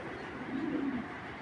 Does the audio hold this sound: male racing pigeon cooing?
yes